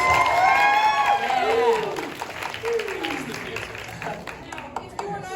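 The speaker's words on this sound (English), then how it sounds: "Give yourselves a round of applause." Audience at a convention showtunes panel applauds and cheers together, a loud crowd burst that gradually fades into scattered claps, with voices and shouts mixed in.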